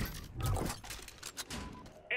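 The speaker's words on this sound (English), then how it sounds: "Cluster strike is go for launch." Cluster strike explosions from the video game Modern Warfare, a rapid run of booming blasts and impacts over roughly two seconds, loud and dense, with a brief sharp burst near the end.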